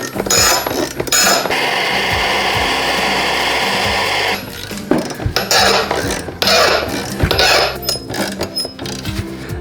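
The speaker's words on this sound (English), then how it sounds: "A couple more turns of the ratchet and we'll be off." Ratchet wrench turning a Harbor Freight puller to free a part from a transmission, giving loud rapid clicking in steady bursts with a sustained mechanical whir, close to the microphone and without talk.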